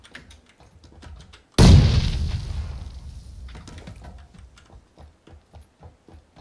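A single loud grenade blast in PUBG near a garage erupts suddenly and decays over a couple of seconds, amid steady rhythmic footsteps before and after.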